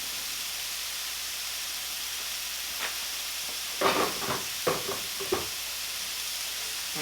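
Shrimp lo mein with bok choy sizzles on the stove as a steady frying hiss, joined near the end by a handful of short stirring and scraping knocks.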